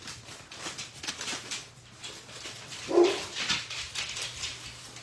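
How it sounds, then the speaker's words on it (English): Dogs barking indoors during a paper lunch-sack snowflake craft, several scattered barks and whimpers of varying loudness, with one louder yip near the middle. "Sorry about the dogs."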